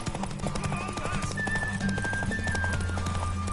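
A horse gallops in The Witcher III: Wild Hunt in a fast, even rhythm of clip-clopping hooves, close and steady, with synthetic game music tones underneath.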